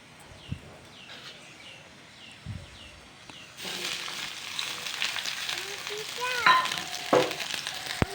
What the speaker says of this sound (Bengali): এখন আমি পেঁয়াজগুলিকে ফ্রাই করে নেব